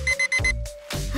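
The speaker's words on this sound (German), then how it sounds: "Sei ruhig, Wecker." Cartoon alarm clock ringing loudly in quick repeated bursts of bright electronic beeps, close and alone, followed by short noisy rustles.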